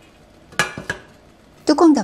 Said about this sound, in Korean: 찜기에 모두 넣어줄게요.